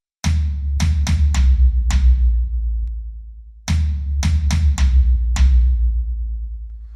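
Drum fill played on the medium tom and floor tom comes as two bursts of rapid booming tom hits, each group ending in heavier strikes that let deep resonance ring out, close and loud with no talking.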